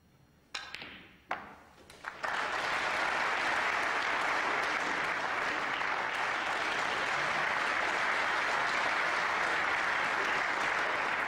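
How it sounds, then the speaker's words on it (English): A snooker audience breaks into prolonged applause after a few scattered early claps, settling into a loud, sustained wash of clapping that carries on unbroken to the end. "And a very prolonged round of applause there."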